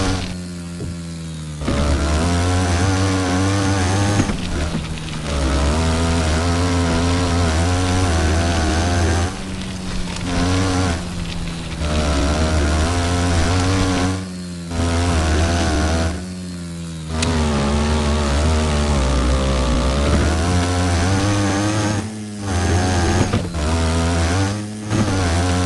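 A Honda 400EX ATV ripping around an off-road dirt track, its engine revving hard and continuously with repeated throttle blips and brief lifts between bursts, loud and close throughout.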